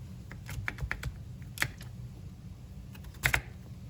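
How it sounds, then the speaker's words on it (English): A knife cuts food into cubes on a board with light, close taps that come in short irregular clusters over low background hum. "Now, I'm going to start cutting it into cubes."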